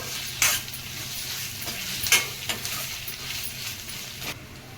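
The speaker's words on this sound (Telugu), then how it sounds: "ఇది ఈ దోరగా పచ్చివాసన పోయే వరకు వేయించుకోవాలి." Freshly pounded ginger garlic paste fries in a pan for a dondakaya masala curry, a steady soft sizzle broken by a few sharp spatula scrapes and clinks against the pan.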